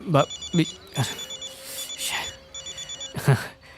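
A telephone rings in repeated short electronic trills, steady bursts running under a woman's and a man's Hindi conversation in a film scene.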